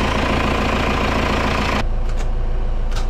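A sailboat's engine idles steadily with a dense low rumble for nearly two seconds, then drops away abruptly to a quieter hum with faint brief sounds.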